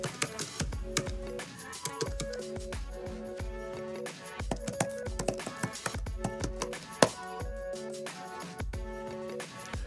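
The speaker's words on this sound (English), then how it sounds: "you'll find a typing and sound effect" A typewriter-style typing sound effect from the DaVinci Resolve 17 sound library plays as a quick irregular string of keystroke taps at moderate level, with occasional harder strikes and no speech.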